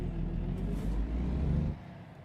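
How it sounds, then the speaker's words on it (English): A heavy vehicle engine rumbles steadily and loud up close, a deep low drone that drops away near the end. "that engine's got a nice sound"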